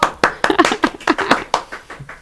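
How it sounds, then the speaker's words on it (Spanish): On a Chilean talk show set, a guest is welcomed with a sparse round of clapping, about a dozen distinct close claps in an uneven rhythm over two seconds. "Un aplauso para Juan Pablo Leiva."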